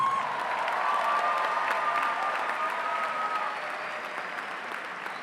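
A large crowd applauds at a fall convocation ceremony for a college of business, with sustained dense clapping in a big hall that slowly tapers, a faint tone ringing over it.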